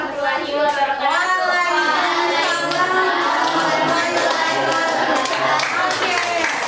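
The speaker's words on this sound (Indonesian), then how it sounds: "tepuk tangan untuk semua kelompok" Students in a classroom clap for all the groups, a steady wash of hand claps mixed with loud, overlapping children's voices and excited chatter.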